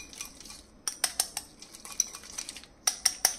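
Hung curd being beaten in a bowl with a spoon or whisk, giving a few quick clinking and scraping strokes against the bowl edge in short bursts, close and fairly quiet.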